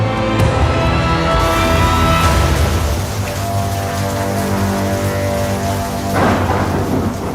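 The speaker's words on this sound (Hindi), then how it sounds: "तूफान के आते ही भयंकर बारिश शुरू हो गई।" Heavy typhoon rain pours steadily in Fujian, China, a dense roaring hiss with a deep thunder rumble rolling underneath and a fresh crack of thunder near the end.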